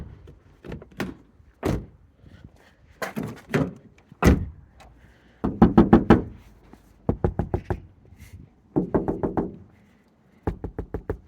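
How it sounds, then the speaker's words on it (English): Car door of a Honda Jazz lined with sound-deadening material gives a series of dull, solid thuds in close bursts, with short quiet gaps between them. "I love the sound when the door that has deadening is closing"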